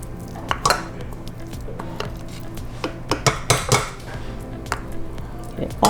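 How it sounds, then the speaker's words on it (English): Butter being creamed with sugar in a mixing bowl for a gluten-free, dairy-free strawberry shortcake, heard as repeated clinks and scrapes of a utensil against the bowl in irregular bursts over a steady low hum. "we're going to cream our butter"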